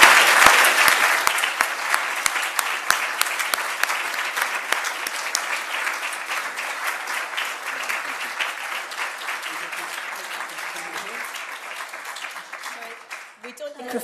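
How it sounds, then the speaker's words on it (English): Sustained audience applause fills a lecture hall before an inaugural university lecture on language rights, dense steady clapping that holds for the full stretch and slowly thins toward the end. "could we perhaps have a round of applause for Jo"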